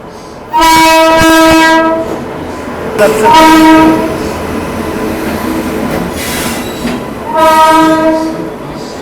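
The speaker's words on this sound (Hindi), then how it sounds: "ये आ गई अपनी बरौनी नई दिल्ली क्लोन वैप 7 के साथ" Barauni–New Delhi Clone Express arriving at a station behind a WAP-7 electric locomotive, with loud repeated horn blasts over the rumble and squeal of passing coaches, close by.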